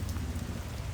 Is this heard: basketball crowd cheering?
no